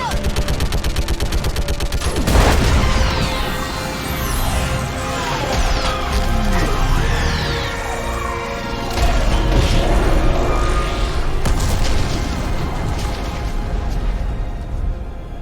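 Video game combat with dense, continuous gunfire and machine-gun bursts punctuated by heavy booms and explosions, loud and close, with voices shouting in spots over the din.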